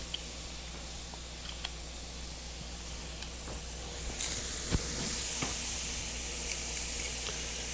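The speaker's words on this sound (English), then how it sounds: "we're going to go ahead at this point and press the garlic in." Garlic pressed into a hot pan sizzles with a steady, bright hiss during mac and cheese prep, with a few small pops and a louder surge of spattering partway through, no voices over it.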